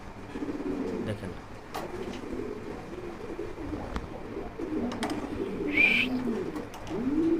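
Jacobin pigeons cooing softly in low, rolling murmurs, with a few scattered call notes and faint background noise.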